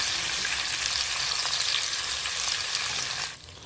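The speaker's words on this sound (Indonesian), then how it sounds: "Lalu masukkan semua cabenya, tumis kembali." Chilies and garlic stir-fry in hot oil with a dense, bright sizzle, loud and close, steady for a few seconds before easing off abruptly near the end.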